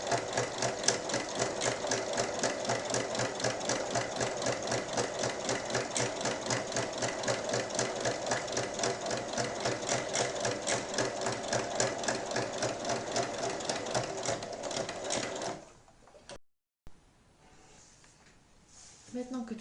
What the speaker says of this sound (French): Donc, je vais faire une surpiqûre tout autour.